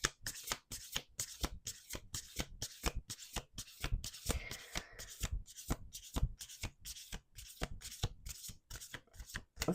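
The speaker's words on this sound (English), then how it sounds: "We're doing one more shuffle." Rapid riffle shuffling of a card deck, a quick run of crisp flutters and taps repeating steadily, close and clear with no talking.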